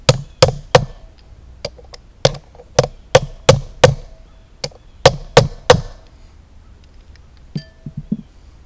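New rear wheel seals on a 1962 Ford Falcon are tapped in with the back of a race driver: sharp metallic hammer knocks in irregular bursts, about a dozen close strikes, then a few lighter taps.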